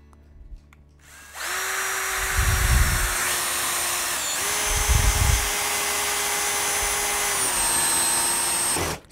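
Bosch Pro GSR 18V-28 cordless drill driver sinking a screw deep into wood, a steady close whine running for several seconds with a brief dip and restart midway, and heavier low thumps as the screw bites.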